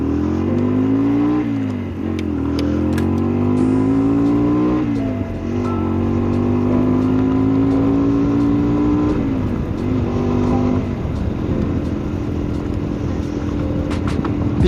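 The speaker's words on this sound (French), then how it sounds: "sonorité du pot qu'on entend mieux, et ça c'est vraiment c'est du miel pour les oreilles" Motorcycle exhaust heard while riding, a loud near engine drone rising with each acceleration and dipping between gear changes, steady throughout with wind noise behind it.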